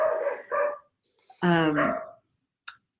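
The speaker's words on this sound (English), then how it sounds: "apologize about the dog barking." A dog barks several times in quick bursts, near and fairly loud, with a short gap between volleys and a faint click at the end.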